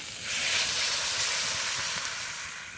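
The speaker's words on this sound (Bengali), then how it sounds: "আলু পটলের সঙ্গে মশলা খুব ভালো করে কষিয়ে নিয়েছি, এবার জল দিয়ে দেবো।" Water hits a pan of sautéed potato and pointed gourd curry with spices, setting off a sudden loud sizzle and hiss that holds steady and slowly fades over a few seconds.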